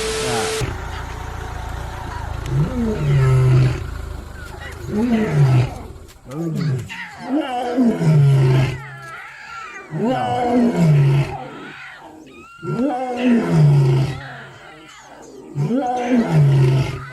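Big cats, lions or tigers, roar again and again in loud, drawn-out bursts separated by short pauses, with an engine-like rumble in the background.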